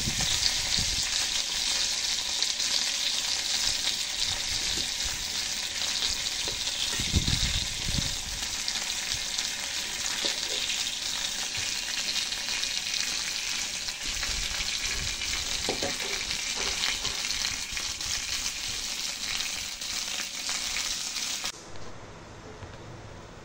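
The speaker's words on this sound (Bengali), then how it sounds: "মাছটা একদম মচমচে করে লাল করে ভেজে নেব" River pangas fish frying in hot oil in a kadai until crisp and reddish, a loud, steady, close sizzle with faint stirring clicks that runs unbroken for about twenty seconds before dropping off, with no talking.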